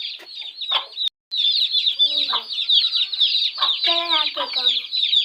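A golden hen that has gone broody in summer clucks and churrs repeatedly at close range, a steady run of harsh, buzzy fowl calls with a brief gap early on.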